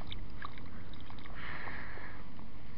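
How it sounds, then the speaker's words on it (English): A found bullet is rinsed in water on a UK beach during a snowstorm, giving a brief watery slosh and splash midway over a constant windy background hiss. "Let me just rinse this off here"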